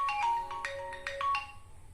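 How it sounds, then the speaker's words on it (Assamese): A phone ringtone sounds for an incoming call, a bright repeating melodic pattern of short tonal notes in quick bursts, fairly close and alone without talk. "ফোন এটা আহিছে।"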